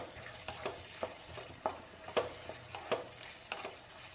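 Onions and capsicum stir-fry in sauces in a pan over high flame, giving a low sizzle with regular scraping strokes of a spatula about twice a second.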